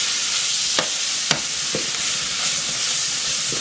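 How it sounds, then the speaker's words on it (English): Garlic, onion and green peppers frying in a pan and being stirred, a steady close sizzle with a few sharp scrapes of the utensil against the pan. "We're gonna just keep stirring it."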